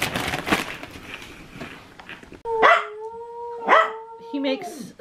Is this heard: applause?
no